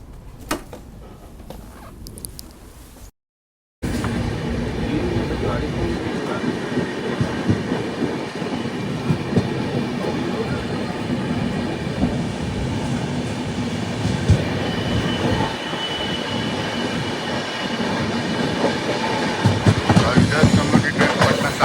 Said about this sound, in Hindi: रेलवे स्टेशन क्रॉस कर रही है।